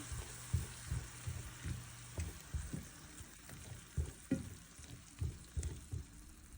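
Onion, tomato, garlic and ginger fry in a pan with a soft sizzle, while a spoon scrapes and taps the pan in a regular rhythm.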